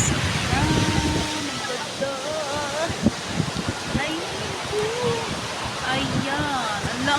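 Beach ambience at Shek O with steady wind and surf noise, breezy and continuous throughout, with birds chirping and whistling over the wash and a few soft knocks in the foreground.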